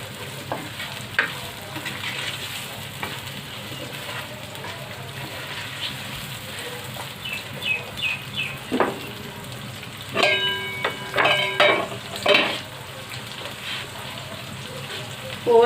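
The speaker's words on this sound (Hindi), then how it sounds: "और साथ में इसको कवर कर देते हैं जब तक प्याज फ्राई होता है।" Onions with a little salt frying in a pan, a steady close sizzle broken by several clattering stirs of a utensil against the pan partway through, with occasional soft speech in the background.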